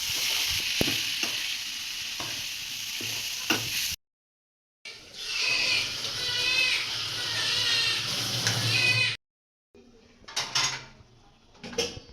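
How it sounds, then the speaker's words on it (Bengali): Sweet pumpkin greens fry in a pan with steady sizzling and crackling, broken by brief gaps, with stirring scrapes and clinking utensils in a home kitchen. "এখন মিষ্টি কুমড়া শাক ভাজি হবে।"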